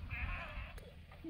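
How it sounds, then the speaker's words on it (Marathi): Sheep bleat in a farm field, one short wavering bleat rising out of faint background noise and followed by a brief low call, heard fairly far off. "बाळूमामाच्या मेंढ्या असल्यामुळे लोक आवर्जून त्यांना सांगत आहेत की आमच्या रानात सोडा"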